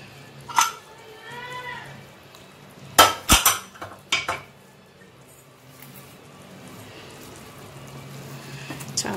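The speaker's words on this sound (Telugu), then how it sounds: "ప్రెషర్ మొత్తం తగ్గిపోయిందండి ఇప్పుడు మనం కుక్కర్ ఓపెన్ చేసి" Metal clanks and scrapes of a pressure cooker lid being twisted open after the pressure has dropped, with mutton cooked inside, a few sharp close knocks early on, then quieter handling.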